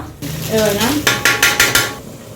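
Pav bhaji masala goes into hot ghee on a griddle, with scraping and stirring against the metal and a rapid series of clattering strikes from the spatula, loud and close with a soft sizzle beneath.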